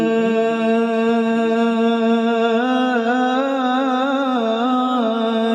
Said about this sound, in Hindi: अब पूरे जंगल में सिर्फ अजान की आवाज गूंज रही थी।